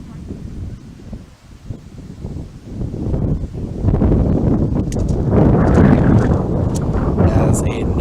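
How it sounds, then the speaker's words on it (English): A strong gust of wind sweeps across an outdoor baseball field, a loud, rumbling roar that swells and stays heavy at close range. "As another big gust of wind comes blowing in."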